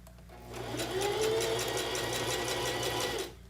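Sewing machine stitching a fabric romper sample, its motor starting up, running in a steady rapid buzz for about two and a half seconds, then stopping, close and clear with no talking.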